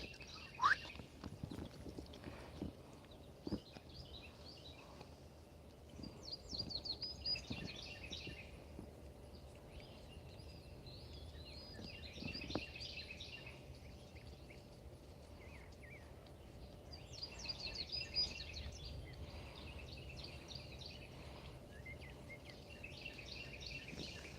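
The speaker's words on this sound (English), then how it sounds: "I guess we'll just listen to the birds at the moment" Birds singing outdoors in chirpy bursts at moderate distance, with quiet gaps between phrases over a steady low hum and occasional soft knocks, no talking.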